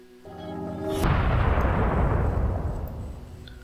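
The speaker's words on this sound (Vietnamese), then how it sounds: "tạo thành một tiếng nổ vang kinh thiên động địa" A huge booming explosion in an audiobook narration begins with a brief rising tone, then erupts into a loud, sustained roar with rumbling debris that slowly fades over several seconds, no voice over it.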